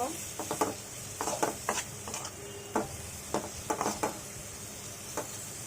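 An onion mixture with ground spices sautés and is stirred in a pan for beef liver shingara filling, giving a soft steady sizzle broken by repeated scraping and clinking strokes of the spoon against the pan.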